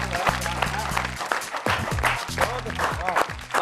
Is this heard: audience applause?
yes